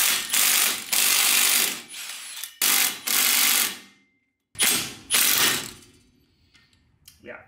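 An impact wrench hammers tight nuts off a trailer in several loud, rattling bursts of two to three seconds each, separated by short pauses, with the last one trailing into quiet handling noises.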